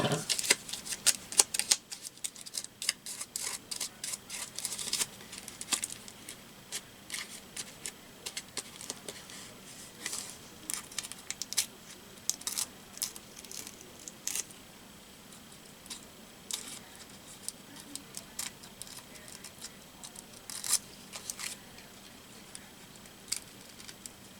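Scissors snipping through paper while a collage card is made, heard as many sharp, close clicks and crisp cuts in irregular runs, with no talking.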